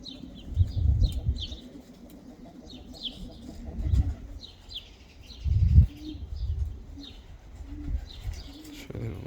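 Bokhara pigeons, blue, yellow and blue-headed birds, coo in a loft with soft repeated calls and light chirps, low rumbling coos rising and falling across the clip, fairly near with some wing shuffling.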